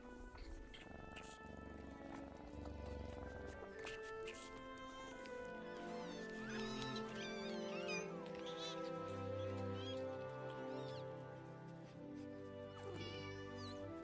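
A cat meows repeatedly in short, high, drawn-out calls scattered across the stretch, heard fairly close over soft background music.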